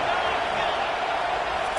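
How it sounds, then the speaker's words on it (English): Roar of a football stadium crowd at a college game between Auburn and FSU, a loud, dense, continuous wash of cheering that fills the whole stretch, with no single voice standing out. "listen to the roar of this crowd"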